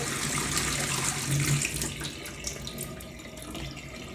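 Water pours out of a kettle being descaled in a steady splashing stream, gurgling into a sink, fairly close and continuous throughout.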